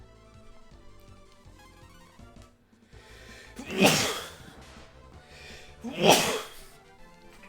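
A person sneezes twice, two sharp loud bursts a couple of seconds apart, each with a quick inhale before it, and a faint exhale between them over a quiet background of game music.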